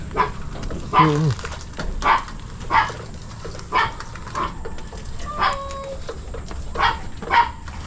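A pet dog named Pogi barks outdoors in a Filipino neighborhood, with about seven short, sharp barks spaced roughly a second apart at moderate distance, one of them breaking into a whimpering yip.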